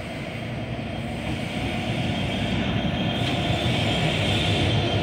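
Freight locomotives roll through a station platform at Lidcombe, a steady loud rumble of engines and wheels throughout with no talking.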